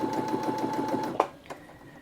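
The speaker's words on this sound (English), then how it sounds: "So if I sew a row of stitches now" Brother Innov-is A50 sewing machine running a row of stitches, a steady rapid mechanical chatter with even pulses, then stopping with a brief clunk and fading to quiet near the end.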